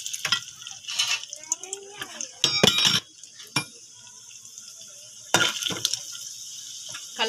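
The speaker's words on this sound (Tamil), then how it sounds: "இப்போ கடலப்பருப்பு போட்டுக்கலாம்." Chana dal tipped into hot oil in a pan for potato masala, giving bursts of crackling sizzle and clinks against the pan, with quieter gaps of steady frying between them.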